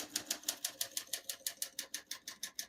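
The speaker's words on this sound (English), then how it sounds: "We're going to keep that on single for now and finish typing." A 1946 Smith-Corona Clipper portable typewriter typing at a steady, even pace, with sharp key strikes close to the microphone repeating about six per second and no talk over them.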